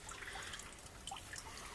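Water drains from the radiator of a Nissan Skyline 350GT with a quiet, steady trickle and scattered drips that stay faint throughout.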